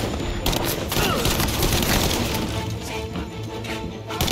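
Dense, sustained gunfire from Mafia: Definitive Edition, overlapping shots and cracks filling the whole stretch with no pause, loud and busy like a firefight in close quarters.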